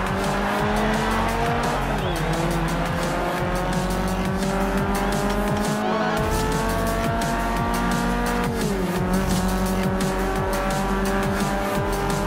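Race cars in Forza Horizon 2 roar continuously at high revs, with engine tones rising and shifting through gear changes and brief tire squeals, loud and constant throughout.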